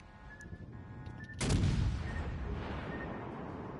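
A torpedo strikes a ship in the naval combat game World of Warships Legends, landing as one sudden heavy explosion that decays into a rumbling wash, after a few faint tones and quieter ambience.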